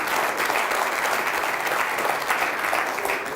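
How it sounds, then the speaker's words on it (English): Steady applause from a snooker audience at a Pot Black match, continuous and fairly loud, filling the room evenly without a break. "both will receive a warm reception from this knowledgeable crowd"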